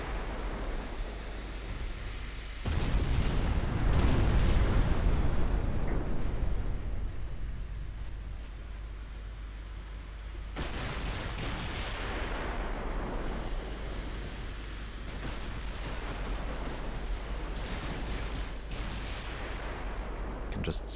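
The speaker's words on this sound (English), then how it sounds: "Can just sail along at this course while firing at the battlecruiser in the distance." Naval gunfire in Ultimate Admiral Dreadnoughts, an Italian fleet in 1933 firing on a distant British battlecruiser: a heavy low rumbling broadside swells early on, then sustained booming and roaring washes continue under a steady sea-like hiss.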